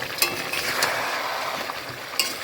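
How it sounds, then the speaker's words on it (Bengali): Chicken pieces and whole garlic cloves stir-fried in a pan, a steady close sizzle with occasional sharp clinks of a spatula against the metal. "দেখো মাংসটাকে এখন যে কষাচ্ছি সুন্দর করে, গোটা গোটা রসুনগুলো দিয়ে দিলাম"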